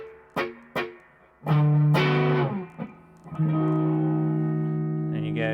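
An electric guitar played through a VHT 20-watt amp with reverb: a few sharp plucked notes, then sustained ringing chords with a cave-like ambient tail, loud and close, and no voice.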